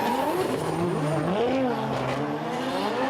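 A GR86 drift car at a Formula Drift Japan round at Sportsland Sugo in Miyagi, its engine roaring loudly and continuously with rising and falling revs over squealing, skidding tires.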